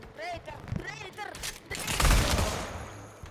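A burst of gunfire in Pavlov VR erupts loud and close as a man is shot, following a stretch of excited voices talking over the game.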